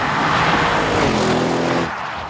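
A 2014 Audi RS7 engine roars loud and close at high speed on German roads. It rises with a strained harmonic whine, then the level drops off abruptly near the end.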